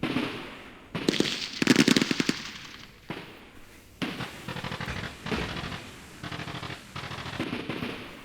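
Artillery in the Campaign Series Middle East wargame booms in several loud bursts of rapid firing with crackling impacts, broken by short gaps, close and steady over about eight seconds, with no voices.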